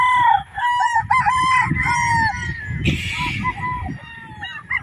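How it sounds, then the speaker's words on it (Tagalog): Roosters crow loudly nearby, several long overlapping calls one after another, with clucking and farmyard noise underneath. "Grabe, ang gaganda ng manok dito guys."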